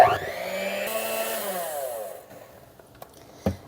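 An electric mixer whirs steadily through cream cheese frosting with powdered sugar in a bowl, holding a continuous buzzing drone that slows and winds down, followed by a couple of light clicks and knocks.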